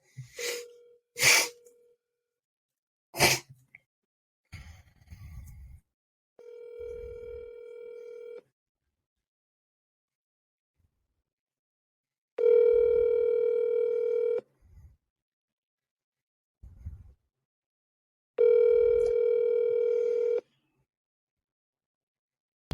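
Telephone call back: a few clicks and breathy noises as the number is dialed, then three long, evenly spaced ringing tones separated by quiet gaps, with faint breaths and rustles between them.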